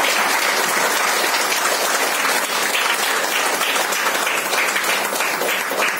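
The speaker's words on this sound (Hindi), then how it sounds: "तालियां" A Women's Day motivational event audience claps steadily, a loud continuous roar of many hands lasting several seconds with no voices over it.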